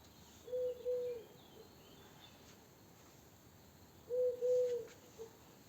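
A cuckoo perched on a roof in Russia gives two double-note cuckoo calls several seconds apart, moderately distant and alone against a faint, steady hiss of insects.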